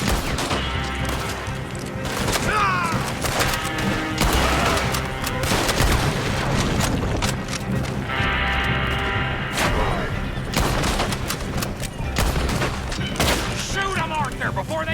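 Dense, sustained gunfire in a Red Dead Redemption 2 shootout: loud overlapping shots and heavy booms roll on throughout, with voices shouting over the barrage.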